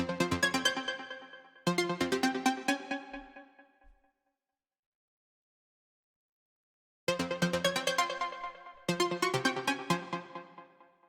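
Bright plucked synth lead for breakbeat techno at 133 BPM, jumping around octaves in short repeated phrases, with a long gap of silence in the middle before the phrase returns, heard alone and close.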